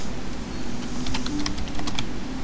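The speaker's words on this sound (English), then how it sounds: "I'm actually typing here" Typing on a computer keyboard: a quick, close run of sharp clicks and taps over a steady background hum, with no voices.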